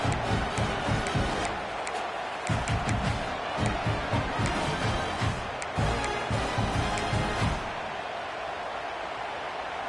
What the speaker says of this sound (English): Listen to this crowd begging its defense to get a stop.